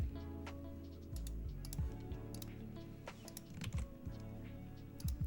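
Keys clack on a computer keyboard in uneven bursts, close and fairly quiet, with a few heavier taps and brief pauses over a steady low background hum.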